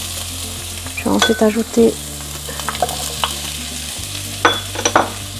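Garlic and white scallion pieces sizzle in a pan of oil for beef with broccoli, a constant, moderate frying hiss beneath a person talking, with a few utensil clicks.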